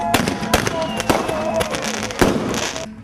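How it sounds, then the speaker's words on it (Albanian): Fireworks from a TV series scene crack and pop in several sharp, loud bursts with crackling between them. Voices can be heard faintly underneath. "festa u bën në fishek zjarre"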